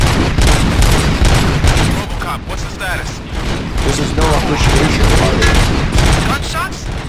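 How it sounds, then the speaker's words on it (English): Rapid, loud bursts of gunfire with booming impacts, like a firefight, with voices mixed in underneath, in the video game RoboCop: Rogue City. "gunshots? What's going on?"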